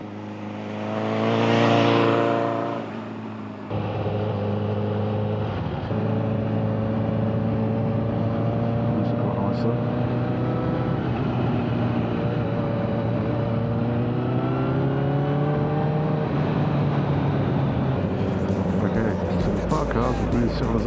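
A car engine driving along a country road near Haseley, a steady close drone that climbs and drops in pitch with gear changes, and one brief surge near the start.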